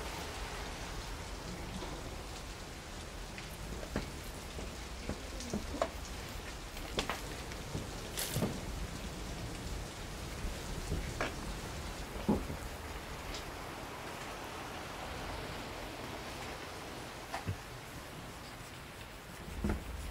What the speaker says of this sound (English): Oh, I don't think so, it's raining.